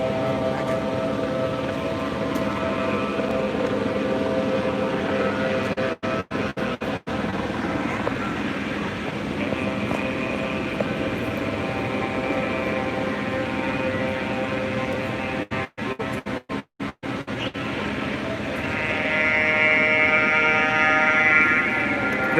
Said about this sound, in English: The noise you're hearing is coming from that megaphone with the musical rhythm and other stuff